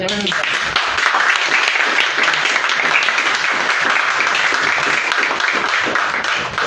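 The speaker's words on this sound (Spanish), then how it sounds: "Un aplauso." Theatre audience applauding at a book presentation, a dense, steady wash of many hands clapping at full volume throughout, with a few voices mixed in.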